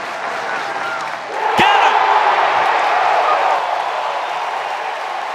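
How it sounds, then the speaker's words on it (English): A college baseball stadium crowd at an NCAA Super Regional between Coastal Carolina and Auburn erupts into loud cheering after a sharp crack, a swelling roar that holds for a couple of seconds and then settles into a steady crowd murmur. "This crowd erupts on the plains."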